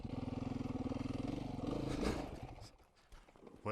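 A dual-sport motorcycle engine chugs in rapid, uneven pulses, then sputters and dies out, leaving a brief lull before a sharp noise at the very end.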